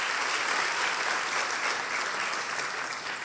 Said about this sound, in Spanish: Alguien que aplauda a Cristo, aleluya.